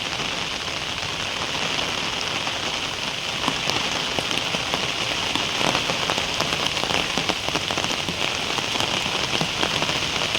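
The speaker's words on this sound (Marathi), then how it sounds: "जोराचा पाऊस आलेला आहे." Heavy rain pouring outdoors, a dense, loud and unbroken hiss of drops pattering on surfaces, steady throughout with no voices.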